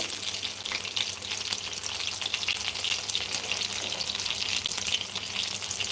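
Fish frying in a pan gives a steady, dense sizzle and crackle that continues unbroken at moderate loudness, close by, with no voices over it.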